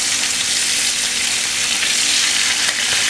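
Catla and rohu fish heads frying in hot oil, a loud, steady hiss and sizzle filling the whole stretch without pause or talk.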